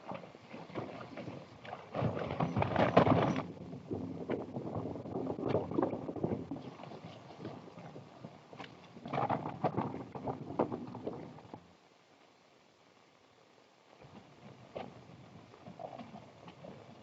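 Horses galloping in an old 1931 western chase, a rough, continuous hoofbeat rumble that surges loud, eases, surges again, then drops nearly to quiet before a faint return.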